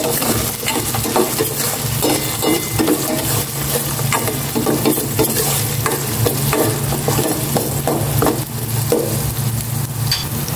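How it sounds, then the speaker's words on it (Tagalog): Garlic and chili sautéing in a pan for coconut-milk fish stew, a loud continuous sizzle and fry with steady stirring and scraping of a utensil against the pan, close up and without talk. "Magisa ng maigi ang mga yan."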